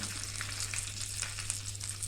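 Water with sugar hisses into a hot tempering for oats dhokla, a steady close sizzle holding level throughout with no talk.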